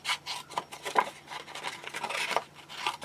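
Paper for a bird-watcher journal cover is cut with scraping, rasping strokes in a quick uneven series, close and moderately loud, with no speech.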